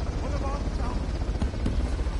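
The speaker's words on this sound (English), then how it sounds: "I badly want to just shoot an RPG at that helicopter" Helicopter rotor thrumming steadily in the action game Uncharted: The Lost Legacy, a continuous dense low rumble lasting about two seconds, mixed with game sound effects and voices.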